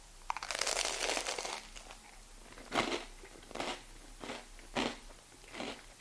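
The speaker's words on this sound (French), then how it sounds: "Une chose est sûre, c'est que ça risque de bien croustiller." Crisp, crunchy bites into a toast topped with peas, one long crackling bite followed by several shorter crunches at a steady pace, close and fairly quiet, with no talking.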